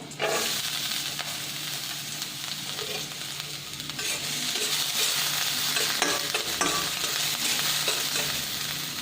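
Onion frying in a pan while a moringa-leaf paratha filling is cooked; a steady, close sizzle runs throughout, with scraping stirs and a slight swell in loudness partway through.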